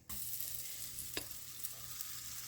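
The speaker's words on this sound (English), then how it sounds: "don't know if you can hear it sizzling." Runny cornbread batter poured into very hot oil sizzles with a steady, close frying hiss from the first moment, with a brief pop or spatter partway through and no talking.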